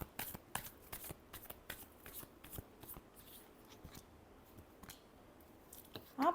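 Tarot cards being shuffled by hand, quiet close riffles and slaps in an irregular rhythm with brief pauses, alone without talk.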